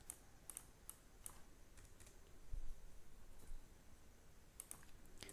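Light clicks and taps on a computer keyboard come in a few faint, scattered bursts while code is being deleted, close and quiet in an otherwise still room.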